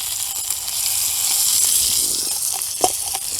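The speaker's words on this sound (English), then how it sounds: "Sausage is looking good. We'll go ahead and give it a flip." Sausage being flipped in a Dutch mess kit over a campfire burning a bit too hot, a soft steady sizzle with a few light scrapes and a single sharper knock near the end.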